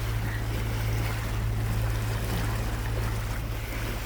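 A narrowboat wallows through waves on open tidal water in the Wash, giving a steady low engine hum under a constant wash of water and wind noise that stays close and even throughout, with nobody speaking.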